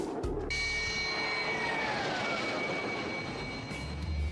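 A refurbished Su-27 fighter jet flies past, its engine roar a loud, steady broadband rush lasting throughout, with a faint whining tone sliding downward as it passes.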